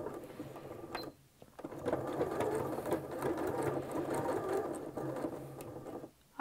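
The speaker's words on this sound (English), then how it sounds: "You'll follow it down with a straight stitch, back stitch here, and make a straight line right along that blue line." A sewing machine runs a straight stitch with a back stitch along the hem of a napkin. It gives a brief start, a short pause, then several seconds of close, steady mechanical whirring.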